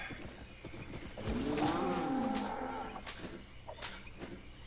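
Cow in the video game Albion Online gives one long low moo over soft background game ambience with faint clicks.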